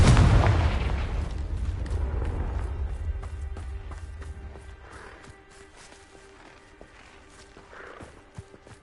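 A Confringo blasting spell goes off in the Hogwarts Legacy video game with one loud, booming explosion at the start. A long rumbling decay follows, then fainter scattered thuds and footstep-like clicks.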